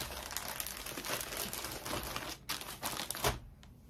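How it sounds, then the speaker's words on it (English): A plastic poly mailer crinkles steadily and up close while an item is packed for shipping, with a few sharper crackles toward the end. "Oh, I put it in a poly mailer."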